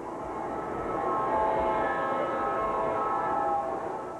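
A Lionel toy train runs steadily, its whirring, humming motor and rolling wheels rising into a sustained, near drone with no pauses and no voices.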